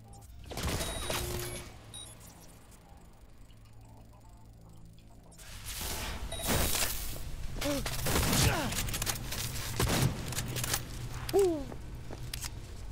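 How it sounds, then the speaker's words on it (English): Shotgun blasts and chaotic combat in Cyberpunk 2077 ring out in bursts, with heavy booming reports and debris crackle following a quieter stretch, dense and loud through the second half. "Why am I using this shotgun anyway?"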